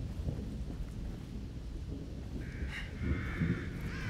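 Crows caw a few times from a short way off in The Evil Within, heard over steady, low rumbling ambience like distant thunder and rain.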